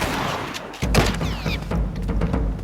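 Video game gunfire in Dreams (The Rest Of Us) sounds as a single close, punchy shot followed by a short thud and rattle, fairly faint overall.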